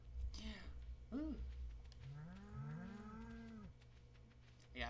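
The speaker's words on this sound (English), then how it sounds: "I apologize if the cows are being really loud" Several loud cattle moos from the farm animals in the video game Stardew Valley, long rising-and-falling calls repeating close together over a steady low background hum.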